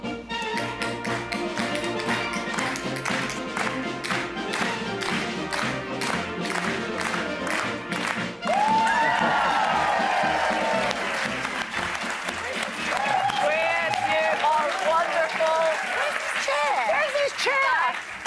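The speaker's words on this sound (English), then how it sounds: "you can clap in time" Studio audience of a daytime TV talk show clapping in time, steady rhythmic claps at first, then louder mixed applause with cheering and voices over it.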